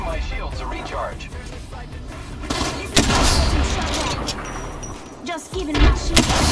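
Gunfire in a video game: dense shots and heavy booms in bursts, loudest around the middle and near the end, over a busy background with a voice or vocals.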